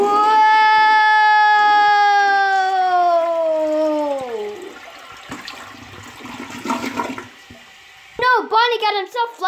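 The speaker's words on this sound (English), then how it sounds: "Bonnie got himself flushed down the toilet" A toilet flush gushes and swirls with rushing water for a few seconds, after a long sustained wailing voice that bends downward, and is followed by quick, excited speech.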